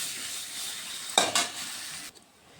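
Water is added to a fried spice paste for banana kofta curry as the oil separates. A steady close sizzle swells in two sharp hissing bursts, then cuts off abruptly.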